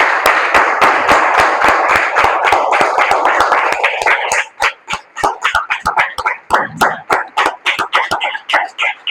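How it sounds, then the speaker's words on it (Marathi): A church congregation claps loudly and steadily for the Lord at a worship service, a dense wall of applause that thins into scattered, uneven claps near the end. "प्रभूसाठी कोण जोरदार टाळ्या वाजवतं?"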